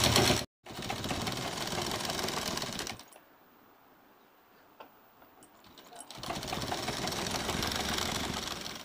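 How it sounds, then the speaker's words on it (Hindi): Sewing machine running a straight stitch along a folded cloth strip for a baby nappy, a close, steady rapid whirring in two bursts separated by a quiet pause. "ये पट्टी को इस तरह मशीन में रखना है और इसको एक सीधी सिलाई लगाना है"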